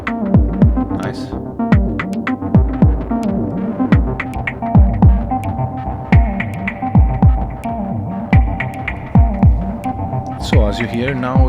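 A Finegear Dust Collector multi-effects pedal reshapes a steady, throbbing instrumental tone with rhythmic pulsing hits and a dense sustained hum, loud and continuous throughout, with a swirling shift near the end.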